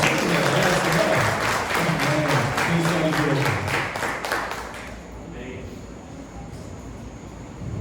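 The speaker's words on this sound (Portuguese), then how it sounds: "Uma salva de palmas para esses irmãos." A church congregation claps during an anniversary service, dense applause with some cheering and voices, fading out after about five seconds into quiet room noise.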